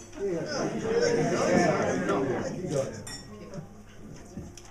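Glasses clink repeatedly during a pearl wedding anniversary toast, light chinks over the warm murmur of guests talking and chattering in the room.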